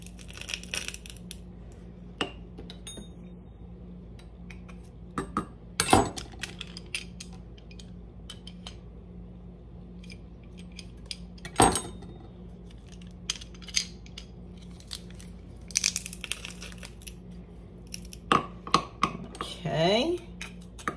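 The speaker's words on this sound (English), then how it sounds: "We're just gonna crush this right into our jar." Garlic cloves are pressed and crushed into a glass jar in a kitchen, with scattered sharp clicks and clinks of metal on glass spread over a quiet stretch.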